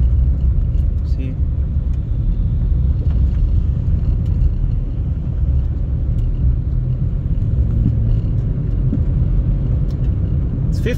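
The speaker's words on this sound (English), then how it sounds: "we are driving through the lava now" A car drives across a hardened lava road near an erupting volcano, with a steady low engine and tire rumble filling the cabin continuously, close and loud.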